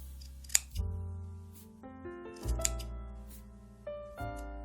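Scissors snip through cardigan knit fabric in a few separate crisp cuts, each a short sharp click with a soft slide, close and fairly quiet over a low steady background.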